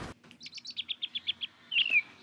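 Small birds chirp behind a closed door in a quick run of about ten evenly spaced bright tweets, ending in a sharper trill, clear against a quiet background with no voices.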